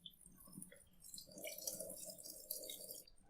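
Water draining from freshly rinsed rice: very faint, sparse trickling and dripping with small irregular splashes, quiet and close, no talk.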